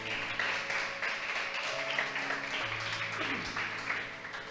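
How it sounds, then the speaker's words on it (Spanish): Church congregation applauding during a Spanish-language sermon, a steady dense wash of clapping lasting several seconds with faint tonal hum and a brief voice underneath. "Vamos a darle un aplauso al Señor, hermano"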